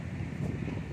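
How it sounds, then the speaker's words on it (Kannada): Strong wind blows steadily outdoors where pigeons are kept at home, a loud, continuous low rumble of gusting air buffeting the microphone for the whole second. "ಫುಲ್ಲು ಜೋರು ಗಾಳಿ ಬೀಸ್ತೈತೆ ನಿಮಗೂ ಕೇಳಿಸ್ತಿರ್ಬೋದು ಇಲ್ಲಿ"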